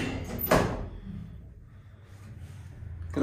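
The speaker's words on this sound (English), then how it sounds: "Doors closing. Gonna close them doors." Lift doors in a Cheltenham town centre building slide shut with a sharp thud near the start, followed by a quiet rumble of the car and a second knock at the end.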